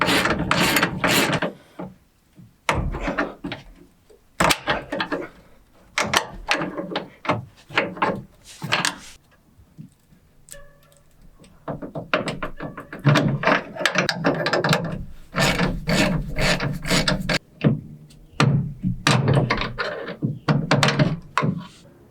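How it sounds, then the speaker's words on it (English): A socket ratchet works a leaf spring bolt loose on a truck axle during a heavy duty suspension upgrade, repeated bursts of quick clicking pawl strokes separated by short pauses, close and crisp. "Sometimes you can keep going with the socket after the nut's off, and it will actually pull it out for you."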